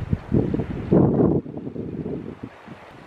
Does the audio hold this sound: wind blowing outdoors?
yes